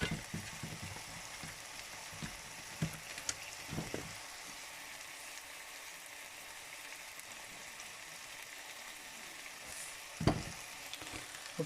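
Korean samgyeopsal pork belly fries in a pan, giving a steady low hiss of sizzling fat with scattered pops and a few sharper spits, close and moderately quiet with no talk.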